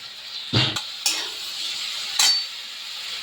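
Spice paste for a tangra fish curry with potato and eggplant fries in a pan, a low sizzle broken by three distinct scraping stirs of a spoon against the metal, close and clear, with no talking.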